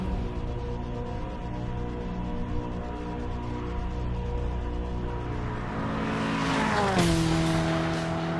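A Ferrari California sports car is driven hard, its engine droning steadily and then rising sharply as it revs and accelerates, loud and close, with no talk over it.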